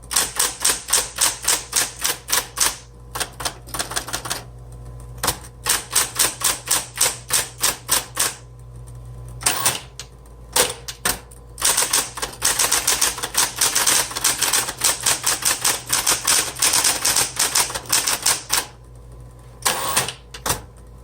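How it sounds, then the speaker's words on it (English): Keys of a 1970s Coronet Super 12 Coronomatic typewriter clack in rapid bursts with short pauses between runs, close and crisp, against a faint low hum. "This types very well."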